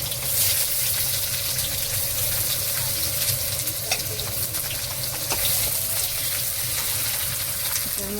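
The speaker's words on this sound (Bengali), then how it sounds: "ফোড়নে কুচিয়ে রেখেছি পেঁয়াজটা দিয়ে দিচ্ছি।" Chopped onion dropped into hot oil with cumin tempering, a steady close sizzle and crackle with occasional stirring clinks throughout.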